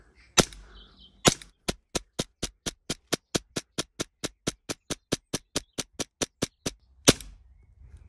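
An ICS ICP replica airsoft pistol fires a rapid string of about twenty sharp, evenly spaced snapping shots close to the microphone, framed by a couple of louder isolated cracks at the start and end.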